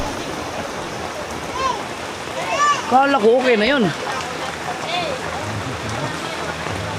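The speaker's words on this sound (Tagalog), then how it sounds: "Grabe, ang lakas naman ng ulan." Heavy rain pouring down as a steady loud hiss throughout, with adults and someone talking over it.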